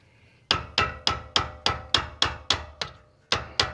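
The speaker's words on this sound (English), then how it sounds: "I'm using my cute little hammer this time" A small hammer strikes in a steady series of about eleven sharp, ringing taps on a boat trailer wheel bearing, evenly spaced with one short pause near the end.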